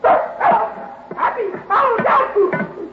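A dog barks and yips repeatedly at close range, in quick uneven bursts that run through the whole stretch.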